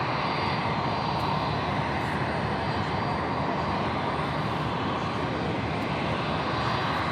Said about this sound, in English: A320 coming at us here.